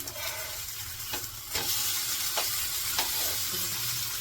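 Thick surmai kingfish pieces, coated in homemade spice masala, sizzle steadily in a pan over a low flame, with a few clinks and scrapes as the pieces are flipped, close and continuous, with no voices.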